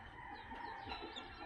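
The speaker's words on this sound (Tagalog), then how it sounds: "yung mga sisiw natin" Chickens and chicks in a coop give off a faint, steady mix of clucks and thin peeping, distant and continuous with no talk.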